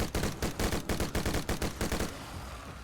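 Assault rifle fire in the video game Dead Frontier 2: a long burst of rapid, loud automatic shots in even rhythm for about two seconds, then stopping, with no talk.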